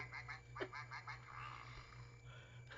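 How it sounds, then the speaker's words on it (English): A few short nasal duck quacks early on over a steady low hum, then a softer, fainter stretch of mixed noise. "Did you hear my duck?"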